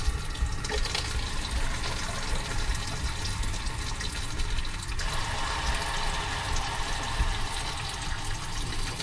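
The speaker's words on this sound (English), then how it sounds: "let the water flow through it" Water runs steadily through a newly installed water filter, a continuous broadband rushing hiss at constant level with no talking.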